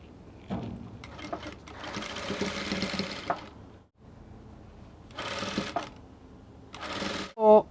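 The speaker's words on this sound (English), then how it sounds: "So I'll stitch together with 1/2 inch, and I'll also stitch here together with 1/2 inch." A sewing machine stitches the seams of an off-shoulder dress with side ruffles in three separate runs: a long whirring burst, a shorter second one and a brief final spurt, close and steady, with no voices.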